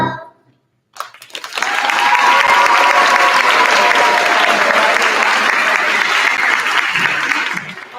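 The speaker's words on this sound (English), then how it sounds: "Let's have one more big round of applause for the amazing first graders on the stage" After a brief silence, a school concert audience bursts into full, enthusiastic applause for first graders on stage, a dense, loud wall of clapping that stays strong for several seconds before easing off.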